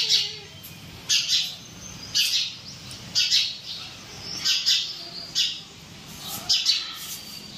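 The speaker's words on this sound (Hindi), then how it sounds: "ये चिड़िया को देखो, सोनू को देख देख के चिल्ला रही है" A bird calls out loudly and repeatedly, a series of sharp, shrill chirping bursts coming about once a second, near and clear over a quiet indoor background.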